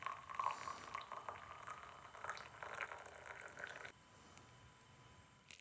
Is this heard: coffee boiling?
yes